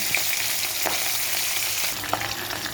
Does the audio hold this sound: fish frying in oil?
yes